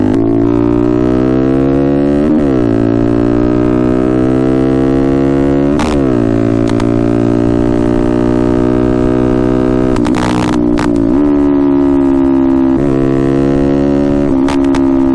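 A 2023 Honda Grom engine drones steadily and loudly on a ride, its pitch climbing through gears with several sharp drops at shifts and brief bursts of wind noise, no voices.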